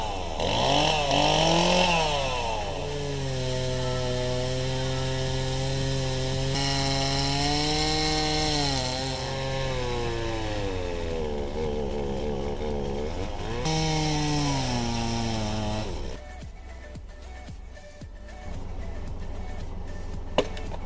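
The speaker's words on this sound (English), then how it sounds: "It shows a chainsaw always comes in handy." A chainsaw cuts a fallen tree blocking a road in the Victorian High Country, its engine whining loud and close with shifting pitch as it bites, then dropping to a lower idle near the end.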